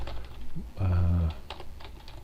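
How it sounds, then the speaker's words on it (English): Typing on a computer keyboard, a few soft clicks around a stronger low hum or tonal burst in the middle, with faint background sound throughout. "Another nice thing is that we can type in here"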